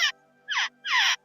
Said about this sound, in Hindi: चिड़िया इसमें फंस गई है, इसको हम लोग निकाल रहे हैं, बचा रहे हैं